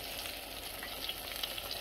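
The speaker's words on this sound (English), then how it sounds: "when I'm putting them in there, they're sizzling" Steady, dense sizzling of battered food frying in hot grease, with crackling pops rising toward the end; no voices.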